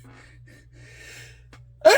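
A sudden sneeze bursts out at the end, loud and close, after a stretch of quiet room tone, while resin casting a model Ford Mustang engine in a hobby workshop.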